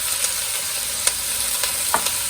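Seasoned scallops, steak and onions sizzle steadily in a frying pan while a utensil stirs them, with a few sharp scrapes and clicks over the constant hiss, close and fairly loud, no talking.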